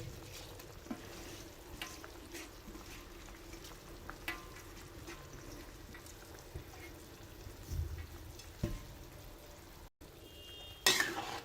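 Soaked rice and wal masoor lentils are mixed in a pot for a pulao, with a continuous bubbling simmer and occasional scraping and clinking of the spoon, then a brief louder rattle near the end.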